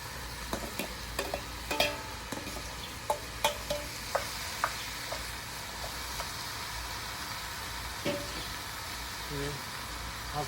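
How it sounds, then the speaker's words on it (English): Squash fries in a pot, a low steady sizzle broken by intermittent light taps and scrapes of a stirring spoon against the pot, with quiet background sound throughout. "So now I will add the squash into the pot."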